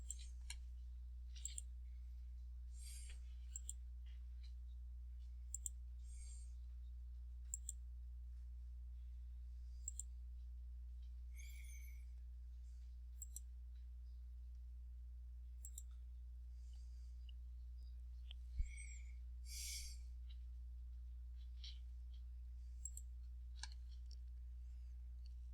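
Sparse, faint computer mouse clicks while working in Inventor CAD software, single sharp ticks spaced irregularly over a very quiet background hum, with no talking.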